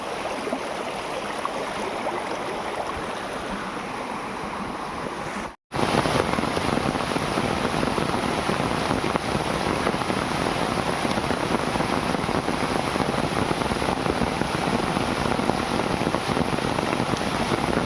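Heavy rain pouring outdoors near fields, a dense, loud, unbroken downpour that holds steady throughout apart from one brief cut, with no voices.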